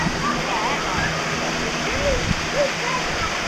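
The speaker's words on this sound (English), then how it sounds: "the water sounds different everywhere you stand along the cascade" Continuous rush of water spilling and splashing over the stone steps of a garden cascade at Chatsworth House, a steady close-up flow with small gurgles and splashes.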